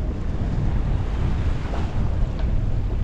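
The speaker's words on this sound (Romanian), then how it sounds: "Avem vânt" Steady wind roars across the microphone at sea aboard a sailboat on the Black Sea, with waves and water rushing continuously beneath it, loud and unbroken throughout.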